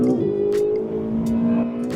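A Ferrari 488 GTB accelerates on a race circuit, its engine heard from inside as a close, steady drone whose pitch rises and falls, with a few brief sharp bursts.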